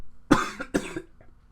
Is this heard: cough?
yes